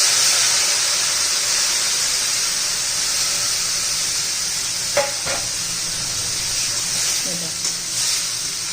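Cooked rajma (kidney beans) hitting hot onion-garlic masala with turmeric in a pan, giving a loud, steady sizzle and hiss that fills the clip, with a few brief clinks of stirring near the end.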